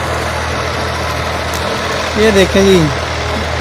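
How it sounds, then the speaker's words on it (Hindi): A tractor tilling soft soil in a farm field idles with a steady low engine rumble close by, a brief rise in revving near the end, while someone speaks over it. "ये जो है ना ट्रैक्टर लगा के ना ज़मीन को वो नरम कर रहा है"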